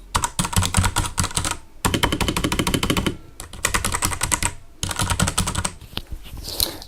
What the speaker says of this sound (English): I'll pull it a bit closer to the keyboard so you can hear the switches